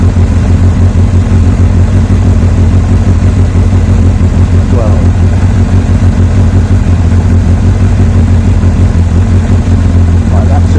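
A Honda CBF1000 motorcycle engine runs loud and close at 5,000 rpm, a steady unbroken drone that holds throughout.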